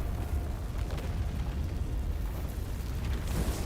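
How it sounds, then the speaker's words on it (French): A dense, continuous roaring rumble of a violent Yellowstone volcanic eruption, heavy low-end turbulence with crackling debris, loud and sustained throughout without voices. "Et soudain, boum, la violente éruption du volcan Yellowstone."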